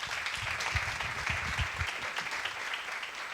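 Audience at a motivational talk in Málaga applauds steadily: a dense wash of many hands clapping at once, close and fairly loud, with no voices over it.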